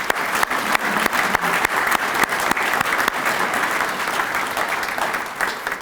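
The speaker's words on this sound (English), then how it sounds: "let's give them a round of applause." An audience at a community anti-crime breakfast in Anoka, Minnesota applauds loudly. Dense clapping holds steady for several seconds with a few sharper claps standing out.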